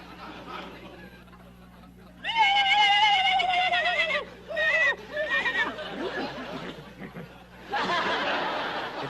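A man on a comedy variety show imitates a horse with his voice, producing a long quavering whinny with snorts and chuckling, followed by audience laughter, then another vocal burst.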